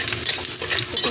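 Hot cooking oil crackling and popping as garlic sautés in a pan for jackfruit cooked in coconut milk; a dense steady crackle with repeated sharp pops, close up, with no talking.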